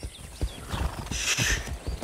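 A horse in Far Cry 6 whinnies close by while its hooves clop in a quick, uneven rhythm over two seconds.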